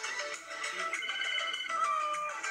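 A phone rings in the Roblox Pizza Tycoon game, a continuous electronic ringtone pulsing in rapid repeated trills, steady and fairly loud with no talk over it.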